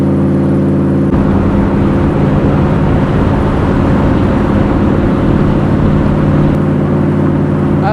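A Shelby Cobra by Superformance drives along with its engine loud and close, a dense, steady roar with harmonic drone that swells slightly after the first second and holds throughout without any speech.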